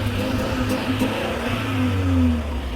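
A BMW X2 20i engine revs through its exhaust, a close, steady mid-pitched drone that climbs in pitch as the revs rise, with no talking.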